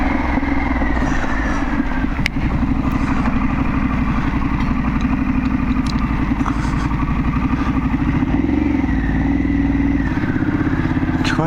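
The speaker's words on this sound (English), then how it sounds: "this bike is loud now" A loud motorcycle engine runs steadily throughout, with a low throbbing rumble and mechanical clatter, close and continuous while riding.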